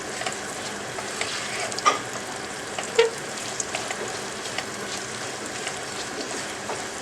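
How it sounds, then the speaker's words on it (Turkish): Boiled chickpeas sizzling in about half a tea glass of vegetable oil in a pan, a steady crackling fry with occasional louder pops and scrapes of stirring, no talking. "Haşlanan nohutlarımızın üzerine şöyle yarım çay bardağı kadar sıvı yağımızı ekleyip nohutlarımızı bu şekilde biraz mühürlüyoruz arkadaşlar."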